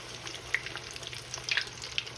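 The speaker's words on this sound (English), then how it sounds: "We're gonna get these bad boys frying off here." Steady sizzling of flounder frying in hot grease, with a few sharper pops and crackles scattered across the short stretch.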